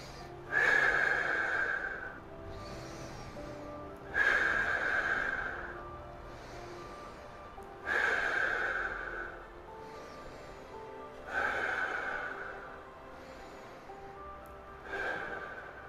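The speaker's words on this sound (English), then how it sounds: "I'm just gonna stay here and breathe." A person breathing slowly while holding a lower back stretch, with five deep, audible exhalations spaced about every four seconds and quiet pauses between them, heard up close.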